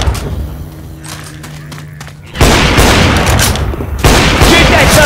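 Gunfire in the Rainbow Six Siege Outbreak video game: close, loud bursts of rapid shots and booms, quieter at first and then a dense, sustained barrage with a fresh burst near the end, with a voice partly heard over it.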